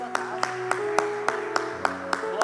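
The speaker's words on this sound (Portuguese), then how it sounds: "Você pode aplaudir o Senhor aí na sua casa." Worshippers at a Sunday Bible school clap for the Lord, with crisp, evenly spaced claps beating in time over sustained keyboard or organ chords playing softly underneath.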